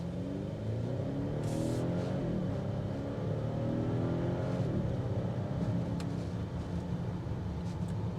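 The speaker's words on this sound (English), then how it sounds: "You're gonna hear the engine escalate into the interior" Engine of a 2025.5 Volvo XC90 B6 Ultra accelerating, heard from inside the cabin, a steady, muffled low drone rising in pitch through the gears under constant road and wind noise, with no talking.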